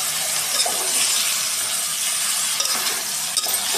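Cucumber pieces and other vegetable chunks cook in hot oil for a lentil rasam, making a constant close hiss and sizzle with faint stirring clinks.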